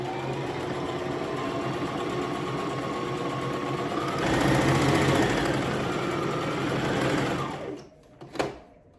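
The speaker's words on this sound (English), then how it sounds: "Don't do a back stitch and just start sewing." A sewing machine runs a straight stitch along the edge of an old T-shirt without a back stitch: a steady, close mechanical whir for about eight seconds that speeds up midway, then stops, followed by a brief clunk.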